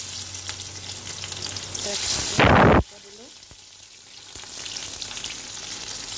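Onion dropped into hot oil in a wok for an Assamese curry, a sudden loud burst of sizzling that settles into a steady crackle and hiss.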